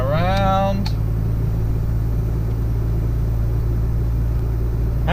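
Car cruising in third gear at around 40 km/h, heard from inside as a steady low engine drone with a brief voice at the very start.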